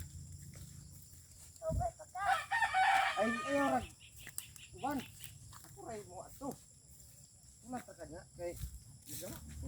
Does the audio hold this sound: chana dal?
no